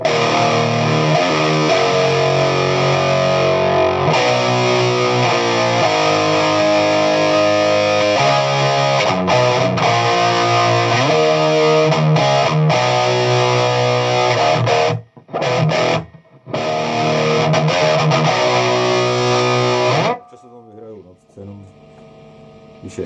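A distorted electric guitar plays a riff, loud and close with dense, rapid palm-muted notes, briefly cutting out in short gaps before the playing stops near the end.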